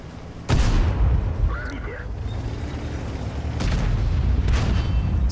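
Tank cannon fire in World of Tanks: one sharp, heavy boom lands near the start, followed by rumbling battle noise and a second burst of firing sounds later on.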